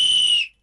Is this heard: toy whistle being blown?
yes